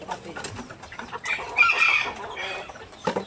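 Chickens cluck close by in a short burst of overlapping calls. Faint background voices and activity can be heard.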